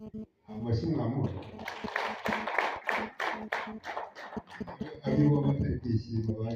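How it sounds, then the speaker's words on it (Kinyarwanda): At a wedding gathering in Kinigi, a group claps in a quick rhythmic run while voices talk and call out over and around it. "Amashyi mwamuha"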